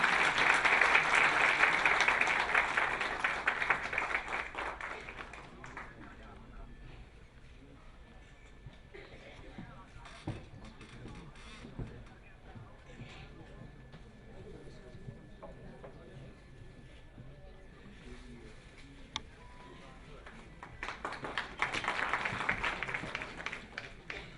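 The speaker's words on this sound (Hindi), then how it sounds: "एक बार ताली बजा करके स्वागत करें।" An audience claps to welcome a guest speaker at a health talk, loud bursts at the start and again near the end, with a quieter stretch of murmuring and scattered noise in between.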